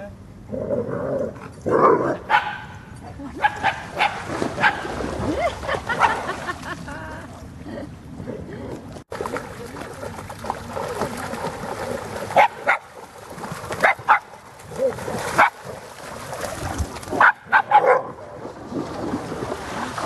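Barking from a Shiba Inu or Groenendaal dog, several sharp barks scattered through a busy outdoor scene, mixed with speech and general background noise.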